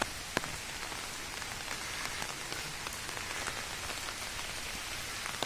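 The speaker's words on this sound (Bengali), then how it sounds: "আজ প্রচণ্ড বৃষ্টি হচ্ছে" Heavy rain falling outdoors near a temple, a dense, steady hiss of drops on surfaces with occasional sharper nearby splats, no voices.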